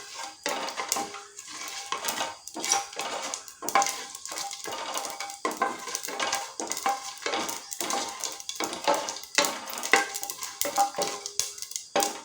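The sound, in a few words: cumin and mustard seeds tempering in hot oil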